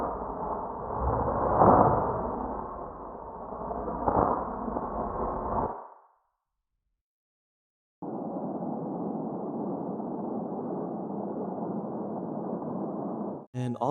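Redesigned Honkai Star Rail main menu sound: a sustained train rumble with layered textures for about six seconds, a pause of silence, then a steady rustling bush-like wash for a magical trail, ending with a bright clink.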